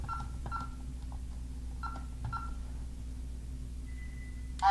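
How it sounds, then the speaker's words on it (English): A few short electronic beeps in quick pairs from a Honeywell alarm system keypad arming, fairly faint against a low background hum, followed by a single steady tone. "I heard the system downstairs beep to arm"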